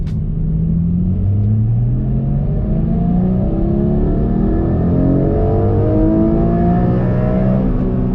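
Porsche Cayman GTS 4.0 pulling hard in second gear, its engine note climbing steadily through a long rising sweep, loud and close throughout with no talking.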